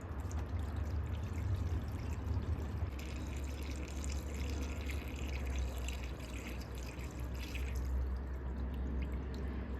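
Coolant pours steadily from a gallon jug into the cooling system of a 2002 Land Rover Discovery 2, a continuous close liquid gurgle and splash lasting throughout with no talk.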